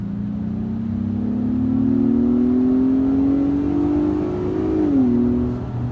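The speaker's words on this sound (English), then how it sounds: "if you do want to push the SUV, you can, and this is how it sounds." A 2024 Acura MDX SUV accelerates hard, its engine note climbing steadily in a smooth drone with artificially piped-in sound, then dipping briefly as a gear changes before holding steady, loud and close, with no talking.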